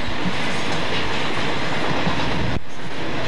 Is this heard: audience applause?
no